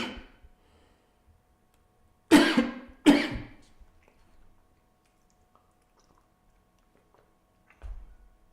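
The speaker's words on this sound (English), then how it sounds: "I got a cough." Two sharp, close coughs come in quick succession from a man, followed by quiet, then a soft throat noise near the end.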